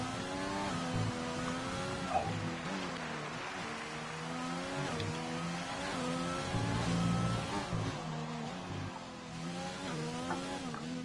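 A Renault Formula 1 car on soft tyres in an F1 racing game at a Spain round, its high-pitched engine revving continuously and rising through gear changes, heard steadily throughout without talk.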